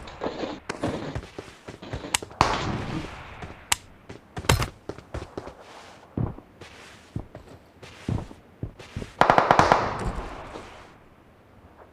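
Shotgun and pistol fire in the video game PUBG Mobile comes as scattered sharp, punchy shots, some single and some in quick clusters, separated by quieter gaps with no talk.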